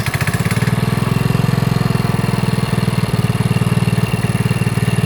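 A minibike's Briggs & Stratton small engine, freshly changed to synthetic kart racing oil, fast idles with a loud, steady, rapid putter that stays even throughout, close up and without talk.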